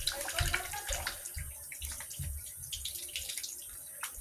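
Hands are rinsed under a running tap at a sink during a skin care routine, a soft, fairly faint steady stream of water with irregular splashing and patters as the hands move through it.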